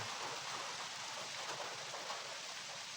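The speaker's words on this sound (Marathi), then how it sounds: "जोरात पाऊस आलेला आहे" Heavy monsoon rain pours down on rice paddies in Konkan, Alibag, in a dense, steady hiss, close and loud throughout with no pauses.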